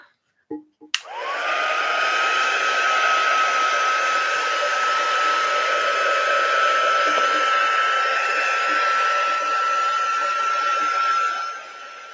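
A heat gun is switched on with a click and blows steadily, drying an altered book: a close, continuous whooshing hum with a high whine that holds for about ten seconds before cutting off.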